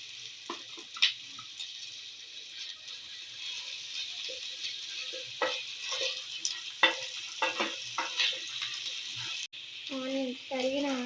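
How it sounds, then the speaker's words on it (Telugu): Chopped onions frying with ginger garlic paste in a pan for aloo palak curry give a steady soft sizzle, with intermittent scraping stirs of a spoon and someone talking over the cooking. "ఆనియన్స్ బాగా ఫ్రై అవ్వాలండి."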